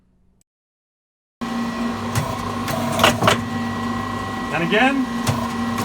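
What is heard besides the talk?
turret lathe turret solenoids unclamping and rotating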